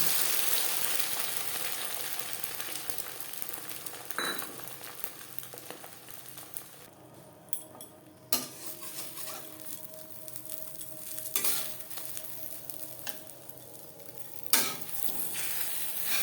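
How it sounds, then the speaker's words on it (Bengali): Steady sizzling of beaten egg frying in a little refined oil in a wok, continuous and fairly quiet, with a few soft clinks and scrapes of utensils. "দিয়ে দিয়েছি কড়াইতে খুবই সামান্য পরিমাণে রিফাইন্ড অয়েল। এবার দিয়ে দেব ফেটিয়ে রাখা ডিম।"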